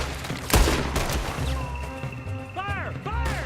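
Pistol gunfight in Red Dead Redemption 2 set in Lemoyne, a sharp close shot early then scattered cracks and ricochet-like whines, with someone talking throughout.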